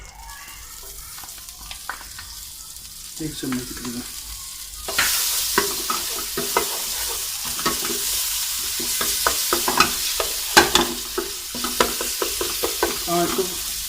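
Ginger garlic paste sizzles and fries in a little oil in a pan while a spoon stirs it with repeated scraping strokes, the hiss growing louder partway through; a voice speaks briefly near the start.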